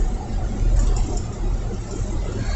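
Steady car engine hum and rolling road noise from inside a moving vehicle, low and continuous with a broad rumble and no clear breaks.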